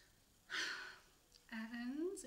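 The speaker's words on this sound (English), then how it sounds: "Take a deep breath in." A deep breath drawn in during a short EFT tapping exercise: a quiet airy inhale, then a soft voiced exhale with a rising tone, heard close and alone.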